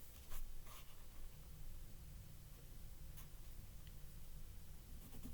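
A pen marks a cardboard toilet paper tube in a few quick, faint scratchy strokes near the start and middle, set against a quiet room hiss with no voices.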